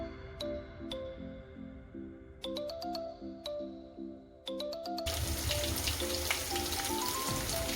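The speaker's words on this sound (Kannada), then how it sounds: "ಅರ್ಧ ಸ್ಪೂನು ಶುಂಠಿ ಬೆಳ್ಳುಳ್ಳಿ ಪೇಸ್ಟ್ನ ಹಾಕ್ಕೊತಾ ಇದ್ದೀನಿ ಹಾಕೊಂಡಾದ್ಮೇಲೆ ಹಸಿ ವಾಸನೆ ಹೋಗೋವರೆಗೂ ಫ್ರೈನ ಮಾಡ್ಕೊತೀನಿ" Half a spoon of ginger garlic paste hits a hot pan and fries with a dense, steady sizzle. Bright electronic chimes ring out in a repeating pattern before the sizzle takes over.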